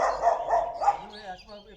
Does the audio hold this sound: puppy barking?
yes